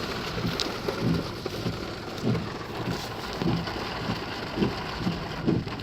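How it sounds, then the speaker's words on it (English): Steady heavy rain pours down during a thunderstorm in Alvin, Texas, a dense continuous hiss with low rumbling swells every second or so, loud and close with no voices. "It's raining"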